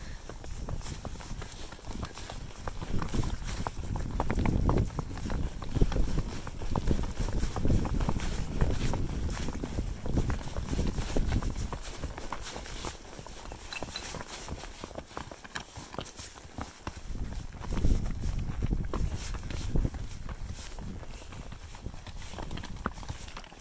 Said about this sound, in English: And this horse, this is Shane's horse